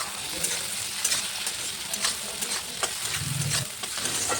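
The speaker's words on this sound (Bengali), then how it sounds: "চিংড়ি মাছটা দিয়ে কিছুক্ষণ নাড়াচাড়া করার পর এবারে কেটে রাখা ছোট ছোট করে আলু দিয়ে দিলাম" Prawns and small diced potatoes fry in oil in a pan with fiddlehead ferns, a steady close sizzle broken by several scraping stirs of a spatula, with no talk.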